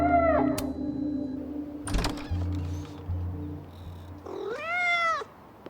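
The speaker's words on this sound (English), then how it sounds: "there is a cat that you can adopt" A cat meows in the video game Life is Strange: Double Exposure, two drawn-out meows separated by soft thumps and a brief rattle, fairly quiet with game ambience underneath and no talk.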